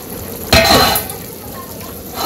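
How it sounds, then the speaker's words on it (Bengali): Pre-fried fish drops into a pan of simmering curry with a sudden splash and sizzle, followed by a faint metallic clink of utensils and quiet bubbling. "এবার ভেজে রাখা মাছগুলো দিয়ে দিই।"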